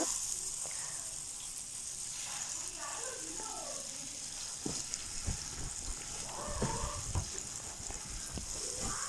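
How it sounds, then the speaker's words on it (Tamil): Sardines deep frying in hot oil over high flame, a steady bright hiss and sizzle with occasional pops, and a voice talking faintly underneath. "ஒன்று ஒன்றா எடுத்து போட்டு பொரிச்சுக்கோங்க"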